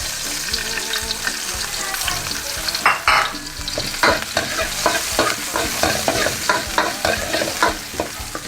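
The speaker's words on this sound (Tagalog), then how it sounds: "gisa lang tayo ng bawang. Then, lagyan natin yung sibuyas." Garlic and onion sautéing in a pan for beef shank kare-kare, a loud, close sizzle broken by repeated scraping stir strokes in an uneven rhythm, with no voices.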